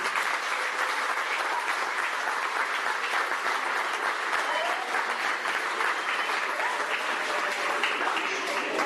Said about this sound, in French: on peut applaudir bien fort Magin